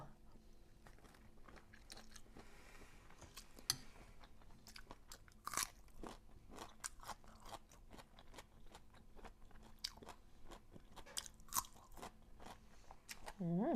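Someone bites and chews a crunchy radish-like food up close, with repeated crisp crunches and wet chewing sounds over a quiet room background and no talking.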